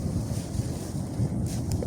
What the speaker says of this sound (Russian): Довольно сильный ветер.